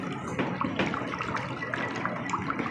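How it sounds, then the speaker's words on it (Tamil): Air being mixed into a liquid to whip up froth in a froth flotation demonstration, a continuous close bubbling, splashing churn at steady loudness with no pauses. "with the help of air நம்ம இப்படி மிக்ஸ் பண்ணும்போது"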